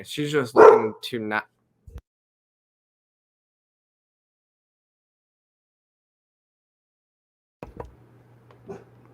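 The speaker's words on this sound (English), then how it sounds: "Yes, that's my dog. And of course, she's barking in the stream." A pet dog barks during a live stream, a short burst of several sharp close barks with someone speaking briefly, then a long silence and a few faint noises near the end.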